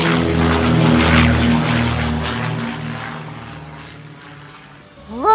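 Propeller airplane flying past, a loud droning engine roar that gradually fades away into the distance, with a voice starting at the end.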